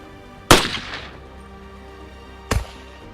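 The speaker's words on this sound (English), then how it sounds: "On the 5th place, we've got CNR Collector shooting his M1 turbine, scoring 9 hits in 75 seconds, resulting in a score of 60 even." Two loud, sharp shots ring out about two seconds apart from an M1 carbine rifle at a shooting competition, each ending in a short decaying echo over steady background noise.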